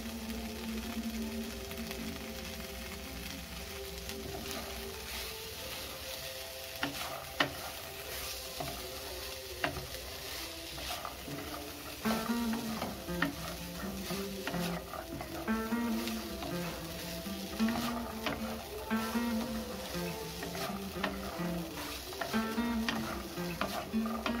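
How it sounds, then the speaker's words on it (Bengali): A chickpea mixture for Bengali chana chaat sizzles steadily in a pan over low to medium heat, with a spoon stirring and scraping in a repeated rhythm. The sound is continuous and close. "গ্যাসের আঁচটা লো টু মিডিয়ামে করে দিয়ে আমি প্রায় 2 থেকে 3 মিনিট খুব ভালো করে এইভাবে একইভাবে ভেজে নিয়েছি"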